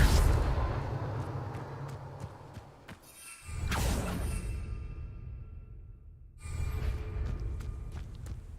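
A Confringo blasting spell in Hogwarts Legacy bursts into a broad roaring whoosh that swells and fades, with a second burst following later amid steady game ambience.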